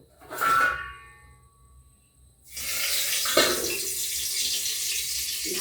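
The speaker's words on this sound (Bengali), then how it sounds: "এবার আমি কারি পাতাটা ভিজে দেবো" Tap water gushes into a sink to wet curry leaves in a home kitchen, a short burst first, then a steady, loud, continuous stream with a brief clatter midway.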